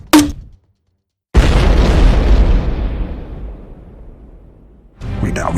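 A grenade launcher fires in an audio drama, setting off a loud, close explosion that booms and rumbles before slowly trailing off. Voices come briefly before and after it.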